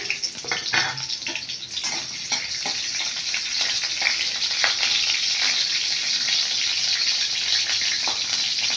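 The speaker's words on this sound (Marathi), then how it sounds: "आता आपण इथे टाकणार आहोत बारीक चिरलेली मिरची ती हलवून घेणार आहोत" Finely chopped green chillies fry in hot oil for a dill greens dish, making a bright, close sizzle that builds and stays steady. Stirring scrapes come through in the first few seconds.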